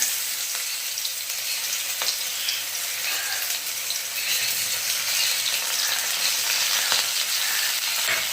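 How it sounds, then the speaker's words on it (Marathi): Onion frying in hot oil in a wok gives a steady, close, bright sizzle that runs unbroken the whole time, with faint stirring scrapes and no voices. "आता ह्या कढईमध्ये मी तेल टाकलेलं आहे आता यामध्ये आपण एक गोष्टी टाकूया पहिले मी कांदाच घेते भाजून"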